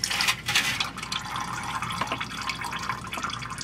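Transmission fluid from a 2007 Dodge Dakota gushing and dripping into a drain pan as the filter is wiggled free, a close splashing liquid pour with bright spattering bursts, quiet overall.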